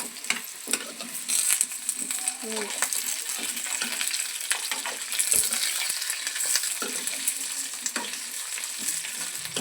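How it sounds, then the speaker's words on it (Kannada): Raw mango pieces being stirred into hot oil with garlic for mavinakayi paluvu, a steady close sizzle and fry throughout with occasional scraping of the spoon against the pan. "ಈಗ ಇದನ್ನು ಮಾವಿನಕಾಯಿ ಹಾಕ್ತಾ ಇದ್ದೀನಿ ಇದನ್ನು ಚೆನ್ನಾಗಿ ಎಲ್ಲ ಮಿಕ್ಸ್ ಮಾಡ್ಕೋಬೇಕು"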